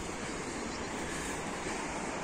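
A mountain waterfall on a hike toward Lac de Gaube rushes in a steady, dense wash of white noise, constant and even with no voices.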